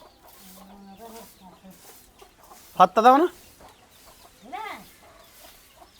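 Domestic chickens in a household yard give a few short, loud clucking bursts close by, with quieter clucks before and after and a person talking throughout.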